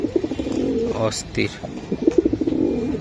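Racing pigeons coo in a loft, a run of soft throaty calls repeating close by, partly under someone talking over them.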